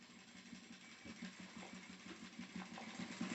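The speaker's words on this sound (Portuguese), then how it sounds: "E vou fazer a costurinha de segurança" Sewing machine running steadily up close as it stitches a safety seam on a wallet with a removable pouch, a continuous mechanical whir with slight rhythmic variation and no talk.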